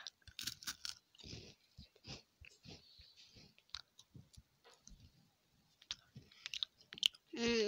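Someone chews crackers up close, with irregular crisp crunches and clicks separated by short quiet gaps and faint breathing.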